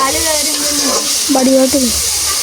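Onions sautéing in a pan for a home-cooked vegetarian dish give a steady, close frying sizzle and hiss throughout, with some talking over it.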